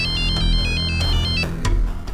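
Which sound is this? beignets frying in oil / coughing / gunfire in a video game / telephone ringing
telephone ringing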